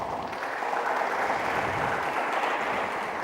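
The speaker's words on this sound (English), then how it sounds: "I want everyone to kindly give a big round of applause." Audience at a tech event gives a round of applause, a continuous wash of many hands clapping at moderate volume that holds steady throughout, with no talking over it.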